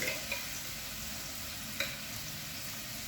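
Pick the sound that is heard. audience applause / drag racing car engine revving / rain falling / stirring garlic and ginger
stirring garlic and ginger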